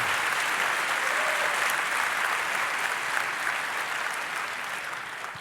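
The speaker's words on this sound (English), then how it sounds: "Please welcome, with a warm applause, Fabian and Luca." A conference audience at the 38C3 hacker congress applauds a talk, sustained dense clapping from a large crowd in a hall, steady and fairly loud, tapering slightly toward the end.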